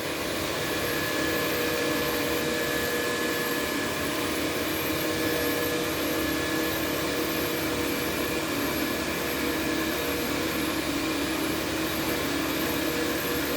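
A carpet cleaning extraction machine runs at a constant, loud roaring whine, working pet urine out of nylon carpet, steady with no breaks.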